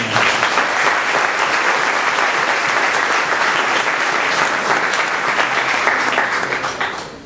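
A church congregation applauds during a Spanish-language sermon, dense and loud clapping sustained throughout, without speech on top.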